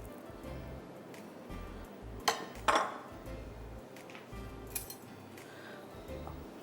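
In a kitchen during mango bread pudding preparation, a serving dish is brought over and set down, giving two sharp clinks close together, a lighter tap a moment later, and quiet background shuffling.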